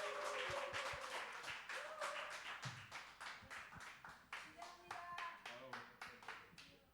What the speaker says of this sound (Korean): 네, 우리 좋은 사람 모실 때 큰 박수 부탁드리겠습니다.